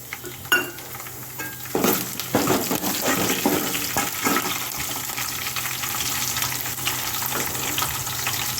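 Mustard seeds and green chilli pieces frying in hot oil, a sudden burst of crackling sizzle that settles into a steady hiss, with a few spoon stirs and pops near the start.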